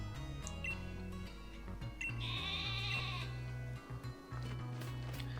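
A sheep bleats in the Pokemon Shield video game on Switch, a wavering synthesized cry sounding over looping game music with steady low tones, moderately loud and close.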